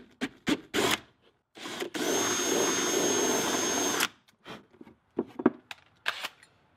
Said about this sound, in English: we're gonna take our large drill bit, put it in here, and we're gonna drill out this hole.